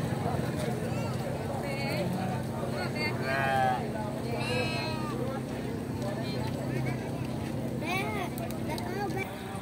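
Goats and sheep bleat now and then at a goat and sheep livestock fair in Belo Jardim, Pernambuco, a few calls rising over busy crowd noise and nearby talk.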